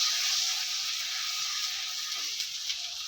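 Chopped red tomatoes fry with ginger garlic paste in a pan for a potato and egg curry, giving a steady, close sizzling hiss with no pauses and no talking.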